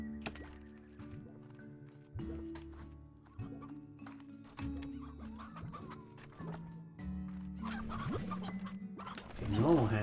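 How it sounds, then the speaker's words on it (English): A briar hen in the video game Slime Rancher clucks repeatedly in short bursts over a bouncy game soundtrack, with occasional thumps and a louder flurry at the end. "That's a briar hen."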